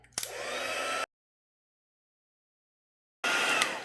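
A heat tool blows to melt embossing powder on a stamped birthday card, a close, steady whooshing roar in two short bursts separated by silence.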